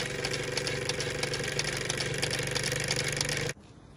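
A vintage Mamod Minor 1 live steam engine runs steadily nearby, a continuous mechanical hum with a rapid rhythmic chuff that stops abruptly near the end, leaving quiet room tone.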